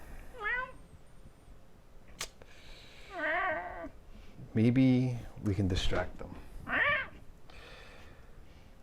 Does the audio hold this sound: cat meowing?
yes